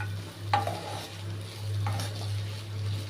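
Green chillies are stirred into masala frying in a pan, a spoon scraping twice over a soft steady sizzle and a low constant hum from the stove.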